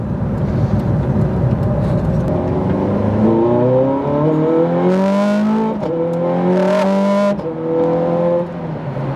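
A 2008 Ferrari 430 Scuderia accelerates hard on a road, its loud engine note climbing steadily in pitch, dropping briefly at two gear changes and then rising again, close and continuous.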